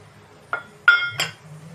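Peppercorns and garlic cloves pounded in a mortar for a village-style tomato and brinjal dish, three sharp knocks with a glassy clink, near and fairly loud over a low hum, no voices.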